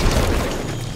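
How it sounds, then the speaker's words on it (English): A grenade blast in Halo 5 multiplayer, a loud, dense booming roar that fills the moment and slowly fades. "Grenade on the way."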